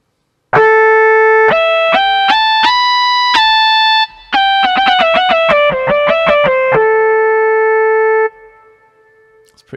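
A vintage 1980s-style synthesized, guitar-like electronic lead from UVI Vintage Vault 4 plays a fast stepping melody of sustained notes, then holds a final note that fades out at the end.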